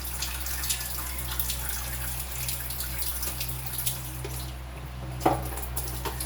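Tap water runs steadily into a sink as fresh market food for a sinigang soup is washed under it, a constant close hiss with a few faint clunks and a sharper knock near the end.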